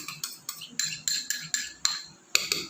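Utensil scraping and clinking against a bowl as mashed century egg is stirred into mayonnaise for a sandwich spread, a steady run of sharp close taps and scrapes with no voices.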